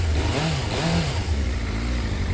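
Suzuki motorcycle engine, a Bandit 400 or SV 650 with 22,000 miles, running at idle after starting, a fairly quiet rough burble with slight rises in revs, no voices.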